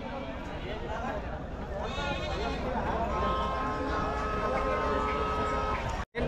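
Goats bleat at a busy livestock market, several calls rising above a dense crowd murmur and nearby voices talking.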